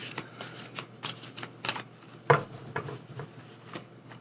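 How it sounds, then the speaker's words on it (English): Tarot cards are shuffled in a series of soft riffling bursts, repeated at an uneven rhythm, close and moderately quiet, with one sharper snap partway through. "So let's just keep shuffling."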